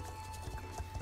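Percheron horse hooves clip-clopping in Star Stable Online, a quick run of soft, muffled hoof thuds over a low steady hum, faint and brief.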